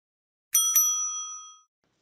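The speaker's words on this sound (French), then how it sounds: "Cette sonnette, c'est pour attirer votre attention" Two quick dings of a small bell, close and clear, with the ringing tone fading out over about a second.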